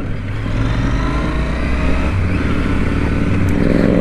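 A Royal Enfield Interceptor 650 motorcycle on a test ride, its engine droning with a steady low throb and a slight rise in pitch, loud and close with constant wind rush.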